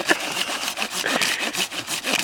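Hand saw cutting through wood in a steady back-and-forth rhythm, each stroke a bright rasping sweep, close and fairly loud with no talk over it.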